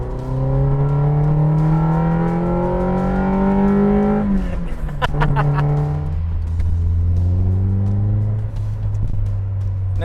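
Toyota sports car engine, from the GT86 and Corolla AE86 lineage, revving loudly up and down through several sweeping pitch changes, close by, with a voice talking over the engine noise.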